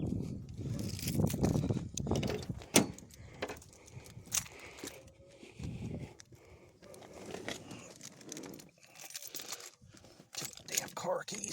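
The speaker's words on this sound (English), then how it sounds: "Damn car keys." Car keys for a 1988 Pontiac Firebird with a 5.7 engine jangle and clink in several quick bursts of metallic rattling, close to the microphone, with rustling between them.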